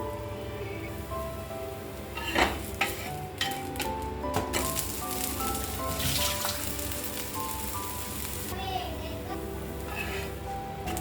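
An adai lentil dosa sizzles in oil on a pan with a steady crackling hiss, while a voice talks throughout and background music plays.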